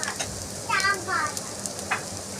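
Onion and chopped green chili sizzle steadily as they fry in a pan, with a few louder bursts of crackle and a faint voice underneath.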